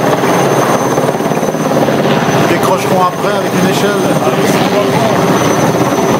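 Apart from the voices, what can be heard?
helicopter hovering and flying off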